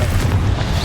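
A Confringo spell explodes in Hogwarts Legacy: a short, heavy, close boom with a deep rumbling body fills the moment.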